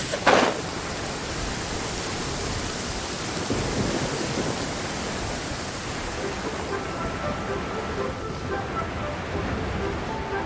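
A thunderstorm in the video game Genshin Impact opens with a sharp crack of thunder, then settles into a steady, heavy hiss of rain with a low rumble that keeps going throughout.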